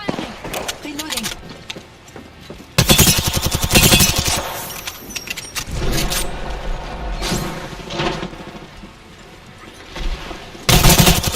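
Weapon fire in a shooter game played with mouse and keyboard, with rapid bursts of shots amid thermite throws and reloading, loud and close, mixed with game effects and a speaking voice.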